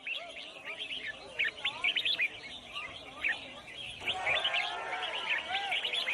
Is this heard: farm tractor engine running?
no